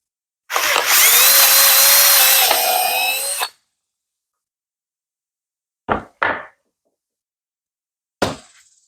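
A power drill whines loudly for about three seconds drilling into the corner of a scrap-wood table, then stops; a few short, sharp drill bursts follow after a pause, in otherwise quiet surroundings.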